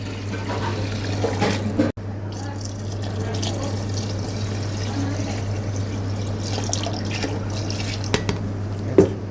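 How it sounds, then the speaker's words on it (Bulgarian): Water is poured over rice in a cooking pot to prepare sushi rice, giving close, soft trickling and dripping sounds alongside quiet talk in a kitchen. "Слагате вода, да може да покриете ориза, не повече."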